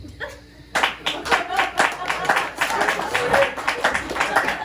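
A small crowd at a stand-up comedy show at a crab shack claps in a loose, lively burst that carries on for several seconds, close and fairly loud, with some voices mixed underneath.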